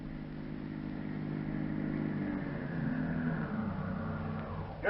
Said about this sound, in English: then they hear an automobile start from the ranch